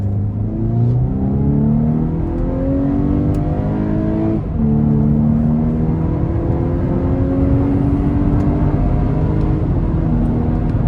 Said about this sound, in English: Love the sound that you get from the engine.